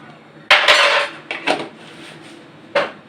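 A spoon clinks against a cup while sugar is stirred into tandoori chai, a sharp metallic strike followed by a few lighter taps and one final clink, close and clear with no talk.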